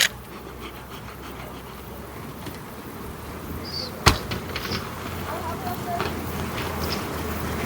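Honeybees hum steadily as a sealed Anzer honey hive is opened for harvest, a continuous close buzz with a sharp knock partway through and faint voices in the background.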